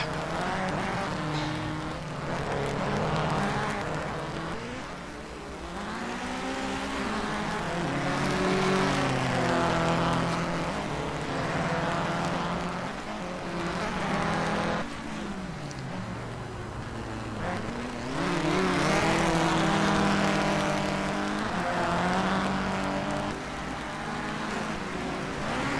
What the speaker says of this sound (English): I bet you enjoyed hearing the raspiness of all these rally car engines